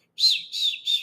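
A person vocally imitates a little chicken's bird call, giving three short, chirpy whistled notes in quick succession, close and clear, with no talking.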